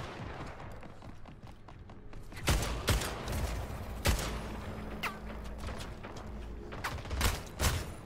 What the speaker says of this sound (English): Getting shot through the wall